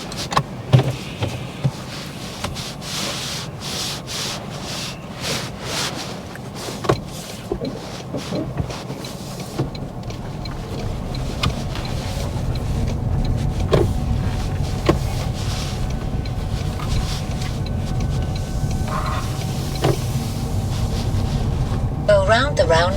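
A car pulls away and drives on during a driving test, its low engine and road rumble building steadily and staying continuous, with faint interior clicks early and a voice speaking briefly over it.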